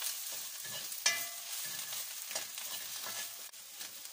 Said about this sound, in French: On va faire cuire un peu notre farine.